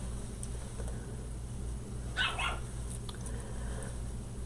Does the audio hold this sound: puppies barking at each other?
yes